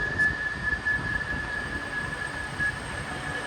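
Steady rumbling train noise with a faint high tone running throughout as a train departs Stoke-on-Trent station for London Euston; no talking.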